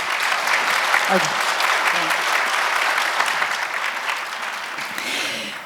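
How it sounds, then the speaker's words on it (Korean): A conference audience claps steadily for panel speakers after a discussion on Korean corporate digital transformation, with dense, fairly loud applause that tapers slightly toward the end and a brief voice exclaiming partway through. "패널 분들께 감사의 박수 한번 부탁드릴게요."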